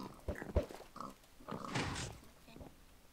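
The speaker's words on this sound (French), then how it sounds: "ici, j'ai un cochon" A cartoonish pig oinks in a French-language video game match, several short grunting snorts spread across the moment, mixed with some game noise and faint talk-like sounds.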